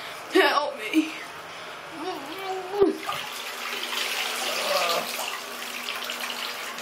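Tap water runs steadily into a bathtub, a soft continuous wash that carries on through the clip. Voices and brief vocal sounds are heard over it near the start.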